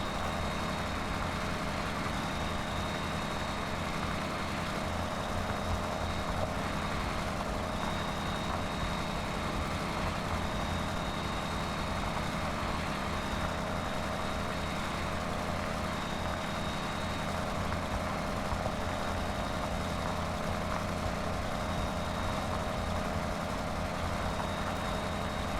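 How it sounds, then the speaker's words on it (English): A 1960 Oliver tractor engine in Farming Simulator 17 drones at a steady, low, continuous rumble with a faint high tone, unchanging and moderately quiet for the whole stretch, with no voices. "So if this is a 1960 Oliver, that's a fairly old tractor here yet."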